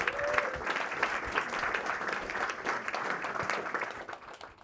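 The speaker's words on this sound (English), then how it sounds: "Big round of applause." Audience applause at a blockchain event, steady clapping from a crowd that fills the room and carries on evenly throughout.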